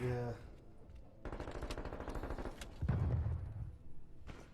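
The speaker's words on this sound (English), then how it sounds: "The Kimbo pistols are OP." Kimbo pistols fire in a video game as a rapid, rattling stream of shots under game noise, starting near the middle and continuing with heavier impacts, while people talk in the background.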